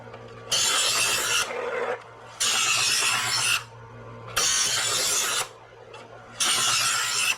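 A knife blade drawn through a handheld knife sharpener in four long, even rasping strokes, each lasting about a second with short pauses between, close and fairly loud with no voices.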